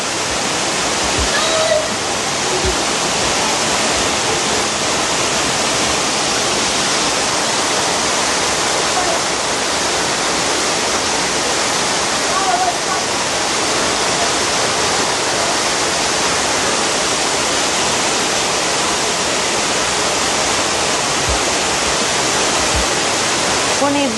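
Waterfall behind the Tree of Life at Disney's Animal Kingdom, a steady, loud, close rush of falling water that continues unbroken for the whole stretch.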